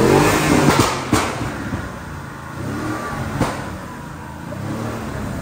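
A Porsche Cayenne's 4.8-liter twin-turbo V8 revs loudly nearby, with sharp throttle blips and a deep rumbling idle between them.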